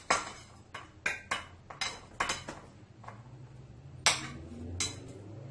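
Chopped peppers, garlic and onion dropped into a bottle for pickled green mangoes, heard as a series of sharp, close clinks and taps, about ten, in an irregular rhythm with quiet gaps between.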